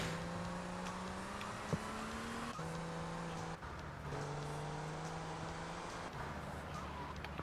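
A car engine hums steadily while driving in GTA Vice City, its pitch stepping up and down as gears shift, with a faint knock partway through and the tone holding throughout at a moderate distance.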